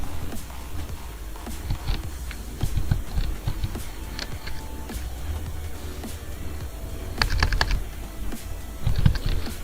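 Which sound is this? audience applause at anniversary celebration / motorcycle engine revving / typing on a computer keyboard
typing on a computer keyboard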